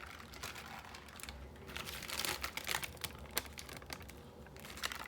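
Close crinkling and rustling of an envelope holding yellow beeswax, soft papery crackles coming in quick uneven bursts.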